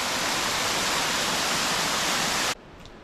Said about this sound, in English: this is probably peak flow for this waterfall